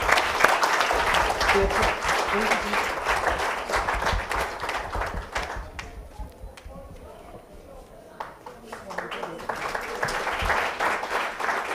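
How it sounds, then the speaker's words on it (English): An audience in a plenary session at a sustainability education conference claps in a broad round of applause that dips to scattered claps midway, then swells again, with speech mixed in. "A round of applause for them."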